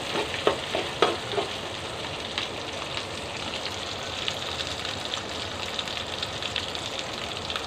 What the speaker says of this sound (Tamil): நல்லா எண்ணெயிலே கொஞ்சம் நேரம் வேகட்டும்